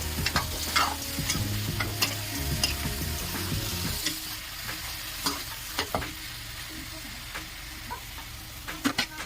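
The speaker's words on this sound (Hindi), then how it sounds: "अब लौकी को अच्छे तरीके से फ्राई करेंगे।" Chopped bottle gourd and onions sizzle in a pan while a spoon stirs and scrapes. Clinks and scraping rise over a soft, steady frying hiss, quiet and close.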